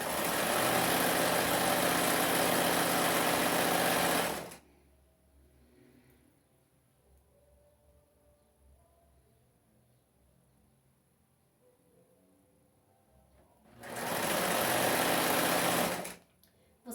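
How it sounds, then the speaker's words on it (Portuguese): A sewing machine stitches a seam on a skirt, running loud and steady for about four seconds, pausing through a quiet stretch, then starting again for a second burst near the end. "Agora é só segurar aqui e costurar até o final."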